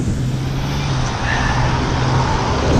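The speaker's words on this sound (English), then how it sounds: "The truck is now behind us." Truck rolling past on a rainy city road in Toronto, heard from a bicycle as steady, loud broadband traffic rumble with a low engine drone throughout, no talk.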